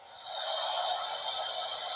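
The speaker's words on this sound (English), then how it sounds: "I think that's a steam blowout, or that's water being added to the tender." A steady hiss of escaping steam from a Bachmann model train's DCC sound system, a steam blowout effect, for about two seconds, close and fairly quiet, starting abruptly.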